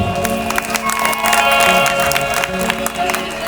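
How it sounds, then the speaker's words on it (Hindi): Loud applause from a seated audience of devotees at a Hindu religious discourse, a dense burst of clapping sustained for a few seconds and close by. "ऐसे भक्तों के लिए जोरदार ताली हो जाएगी"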